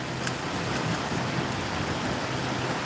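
Steady rain falls continuously, a dense even hiss with no pauses and no voices.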